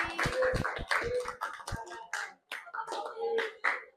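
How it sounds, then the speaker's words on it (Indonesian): An audience claps in a sharp, uneven burst at an indoor gathering, with scattered hand claps rising and falling alone, no voices over them. "Tepuk tangan semuanya"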